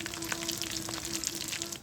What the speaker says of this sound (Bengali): আর এদিকে আম্মু আলুর চপ ভাজতেছে।